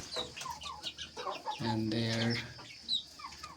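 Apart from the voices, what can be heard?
chickens clucking on a small farm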